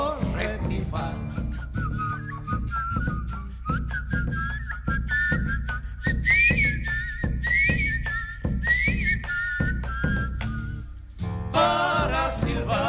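Melodic whistling carries a tune over a steady rhythmic beat, likely a cajón, during a folk dance gathering in Río Gallegos; the whistled line is loud and continuous, rising and falling across the accompaniment.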